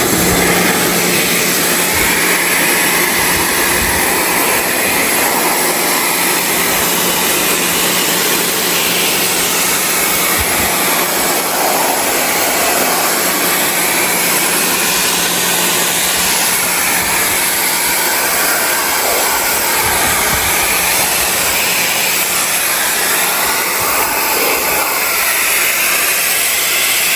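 Compressed air blasts steadily through a truck radiator being cleaned to fix overheating, a loud continuous hiss and rush of air lasting the whole stretch without pause.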